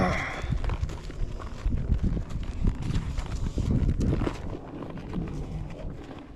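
Hooves of a colt loping outside on his third ride thud in a steady, rolling rhythm, close and continuous over wind and movement noise.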